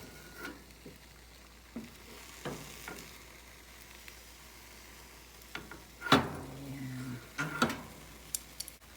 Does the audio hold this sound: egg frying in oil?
yes